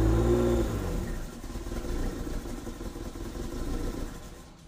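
A 1994 Toyota MR2 engine runs close by with a slight misfire, a loud low rumble that revs and settles with an uneven, chirping pulse, no voices over it.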